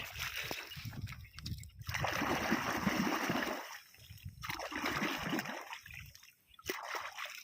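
Freshly caught creek crabs being washed in water, with bursts of splashing and sloshing coming in uneven waves, close and fairly loud, pausing between rinses.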